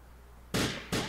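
Grand Theft Auto IV gunfire, two sharp loud shots about a third of a second apart, each with a short ringing tail, close and alone.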